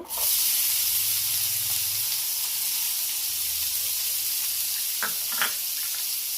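Chopped onions and two green chilies frying in oil in a pan, a steady loud sizzle and hiss throughout, with a low rumble early on and a few brief stirring clicks near the end.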